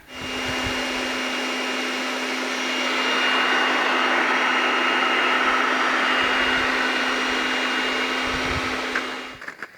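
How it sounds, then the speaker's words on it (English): A steady, loud whooshing roar of air from a vacuum blowing through a garden irrigation line to drain the water, with a constant motor hum, running without pause before cutting off at the end. "get the hose for the vacuum on it and start blowing the air into it"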